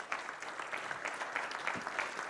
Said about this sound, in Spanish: Dale una fuerza, aplauso.